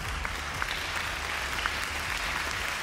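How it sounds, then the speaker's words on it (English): Audience applause at the CNBC Asia India Business Leader Awards 2013 business ceremony, a steady, even wash of many hands clapping throughout, heard from within the hall at moderate level. "Please give him a big round of applause."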